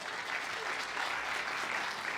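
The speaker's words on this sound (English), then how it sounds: "a round of applause." A seated audience at a free speech event applauds steadily, a dense, even wash of clapping heard at moderate distance with no speech over it.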